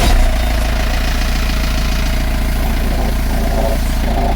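Marine boat engine running steadily at idle during winterizing with coolant flushing, a loud low rhythmic chug that holds constant throughout.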